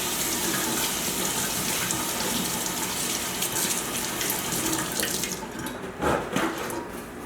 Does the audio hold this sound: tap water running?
yes